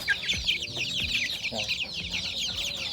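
Chicks and young chickens cluck and peep steadily at close range in a backyard poultry pen, with sharp downward chirps repeating every half second or so over a busy, continuous layer of bird calls.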